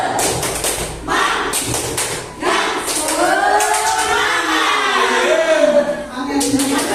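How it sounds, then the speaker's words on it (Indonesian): Primary school class clapping out a rhythmic 'spirit' clap pattern together, groups of quick claps and taps mixed with children's chanting voices over a continuous classroom hubbub. "Tepuk semangat."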